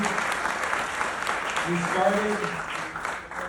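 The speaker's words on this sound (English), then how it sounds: "how about a round of applause for David making this movie?" An audience applauds the director after a film screening and Q&A in New York, with sustained dense clapping throughout and a voice briefly speaking over it midway.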